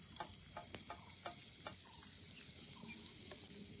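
Asafoetida dropped into hot oil in a small pan crackles and sizzles quietly, with a few sharp ticks and scrapes of a spoon near the start, then a soft steady fizz.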